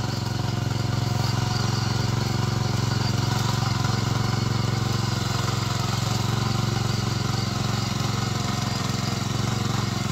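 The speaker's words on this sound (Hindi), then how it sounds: "अब ट्रैक्टर है तो ट्रैक्टर को अपने कंट्रोल के हिसाब से चला सकते हैं" A tractor engine drones steadily and loudly at close range while working a field in a hilly Himachal Pradesh farming village, with no break in the noise throughout.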